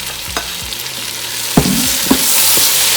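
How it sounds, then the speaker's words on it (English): Vegetable biryani with mushrooms and cabbage being stirred in a pot over the heat, a loud steady sizzle and hiss filling the whole stretch, with a few soft thuds and scrapes of the spoon breaking through, close and without talk. "Give it a good old stir."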